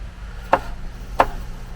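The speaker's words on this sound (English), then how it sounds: "so I'll just continue chopping that" Two sharp knife strikes on a board, about two thirds of a second apart, as garlic is chopped in a van kitchen, each a crisp close tap over a low steady hum.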